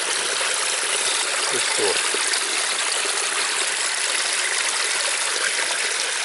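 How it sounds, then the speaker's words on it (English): Clear stream water rushes and splashes over rocks in a remote bush setting, a steady close, full-bodied flow, with someone speaking briefly over it. "Just watching clear water flow. Hearing its sound."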